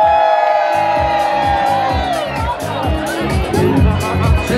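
A large crowd at an outdoor event in Rome shouts, whoops and cheers loudly and continuously, a dense roar of voices with some rhythmic chanting.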